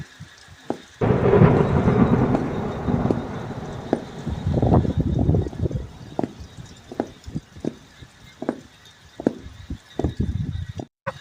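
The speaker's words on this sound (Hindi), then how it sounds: "बादल बहुत जोरों से गरज रहे थे।" A deep rumble of thunder rolls through steady rain, followed by scattered loud drips and splashes close by.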